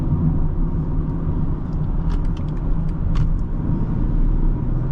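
A 2023 BMW X3 30i xDrive cruising under light throttle, a smooth low engine and road rumble heard steadily from inside the cabin, with a few faint clicks and no talk.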